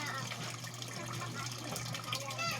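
A little water is poured while preparing rice to cook, a short gushing trickle with a watery splash, moderately close and fairly quiet, alongside a constant low hum.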